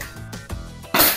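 An XF1911 pellet gun lets off a single sharp crack near the end, following a few faint mechanical clicks and handling sounds.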